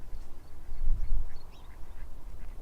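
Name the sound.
birds at Whitby Abbey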